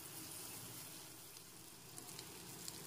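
Tomato, ginger and garlic masala sizzling and frying in a pan as it is stirred for a fish curry, a steady dense hiss with occasional scraping stirs, close and alone.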